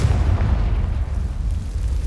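A Confringo blasting spell detonates in the Hogwarts Legacy video game, a loud, sustained low rumbling boom that fills the whole moment without a break.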